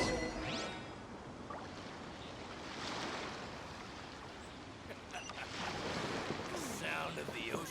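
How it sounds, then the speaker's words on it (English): Ocean waves in Genshin Impact, a faint, steady wash of surf with gentle swells rising and falling, plus light wind and a few soft incidental sounds, with no one talking. "Sound of the ocean waves."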